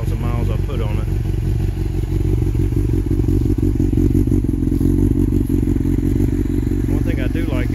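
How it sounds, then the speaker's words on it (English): A Yamaha FZ1 motorcycle engine rumbles loudly up close with a deep, steady exhaust note, a few clattering knocks, and a person talking briefly at the start and end. "One thing I do like is the exhaust."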